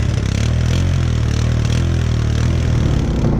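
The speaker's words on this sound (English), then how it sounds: "we are now on the four-wheeler. We have it running" An older four-wheeler ATV engine running on a cold day, a steady close idle with a continuous low throbbing rumble and mechanical clatter, loud and unbroken throughout.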